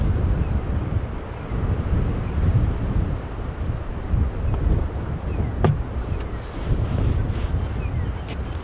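Strong wind buffets the microphone in a constant, rumbling roar on an open safari drive at Djuma Game Reserve. It stays loud and unbroken throughout, with no speech.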